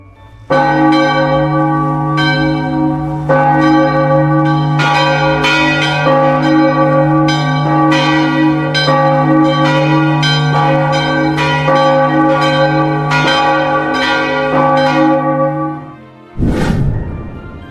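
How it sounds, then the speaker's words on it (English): Church bells all over a city ring out loudly in a continuous, layered, joyous peal, strikes overlapping with long sustained hum, then the ringing cuts off near the end. "The church bells, all over the city, were pealing joyously."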